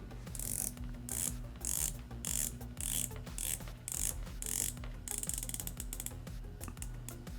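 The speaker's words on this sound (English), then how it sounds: "Really solid bezel action, very nicely sounding, very precise clicks" A heavy tungsten carbide dive watch bezel is turned in bursts, producing crisp, precise ratchet clicks in quick runs separated by short pauses, close up and alone.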